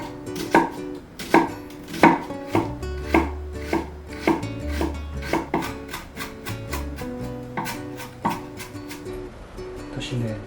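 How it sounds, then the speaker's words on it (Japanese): Onion being finely chopped with a knife on a cutting board, a steady run of loud, sharp taps close by, quickening toward the end, with no talk over it. "みじん切りにします。"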